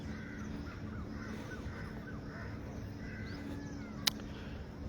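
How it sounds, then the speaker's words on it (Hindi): Several birds call in the distance near a mosque, with repeated harsh caws and a single sharp chirp near the end against a steady low hum. "आप सुन रहे होंगे अलग अलग चिड़िया,"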